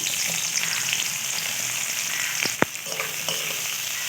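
Chopped onions fry in oil in a pan for a pointed gourd (potol) roast, a steady close sizzle with a couple of sharp stirring clacks near the middle.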